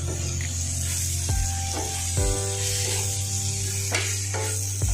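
Roasted masala powder sautéing with softened onion and tomato in a pan for Kerala-style kadala curry, a steady loud sizzle broken by several scraping strokes of a spoon against the pan.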